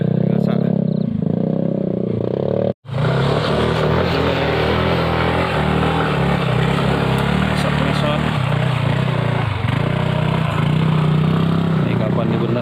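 Motorcycles climbing a hill road on the way to Bukit Bakung in West Lampung, with continuous close engine roar and rattling under steady talk, after a brief dropout near the start.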